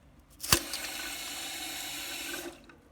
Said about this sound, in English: There should be a little bit of water squirting out there